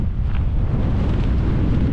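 Wind blowing outdoors along a hillside path, a constant low rushing roar buffeting the microphone with no let-up.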